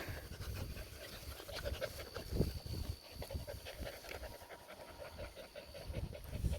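A Maremma puppy pants steadily in quick, rhythmic breaths, fairly close and moderately loud, with no talking over it.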